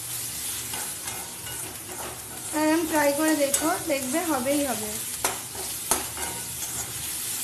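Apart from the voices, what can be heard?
onions frying and being stirred with salt and turmeric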